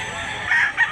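A rooster crows at a poultry seller's in Mantalungon, Cebu, one loud, close call rising and cracking over about a second with no talk.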